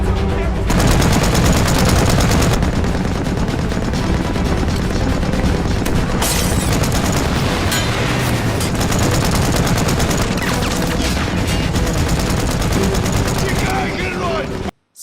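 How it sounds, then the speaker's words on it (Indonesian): Dense, continuous gunfire and heavy explosions fill a loud war-film battle scene between Russian and German troops, with tank fire and a thrown molotov amid sustained volleys and booms, cutting off abruptly at the end. "Adu tembakan semakin intens"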